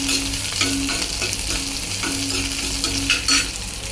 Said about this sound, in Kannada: ಅದು ಒಂದೂವರೆ ನಿಮಿಷ ಚೆನ್ನಾಗಿ ಫ್ರೈ ಮಾಡ್ಕೊಬೇಕು